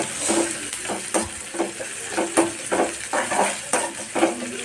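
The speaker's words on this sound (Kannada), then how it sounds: "ಸಾಸ್ವಿ ಚಟಪಟ ಅಂತ ಕರೆಕ್ಟಾಗಿ ಫ್ರೈ ಆಗಿರ್ಬೇಕು" Mustard seeds and curry leaves crackle and pop in hot oil, a steady run of sharp, close sizzling bursts with a few clinks of a utensil against the pan.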